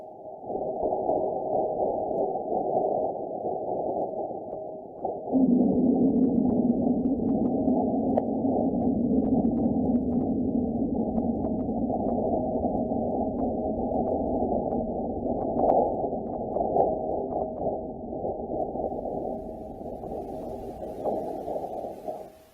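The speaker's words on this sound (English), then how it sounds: "you can listen closely to the sounds of Mars" Sonified seismic rumble recorded by NASA's Mars lander from a meteoroid impact, a steady low droning tone that swells louder after a few seconds and holds, with faint crackles, alone without speech.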